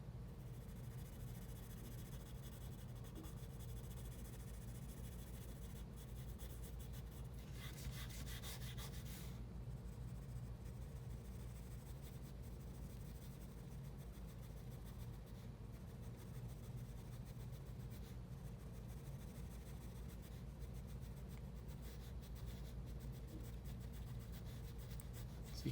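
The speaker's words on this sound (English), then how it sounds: "You can also grab a darker pencil type and just create some darker space in here as well." A pencil shading a walnut shell drawing on paper makes a faint, continuous soft scratching and rubbing, with a brief brighter burst of strokes partway through, heard close up with no talking.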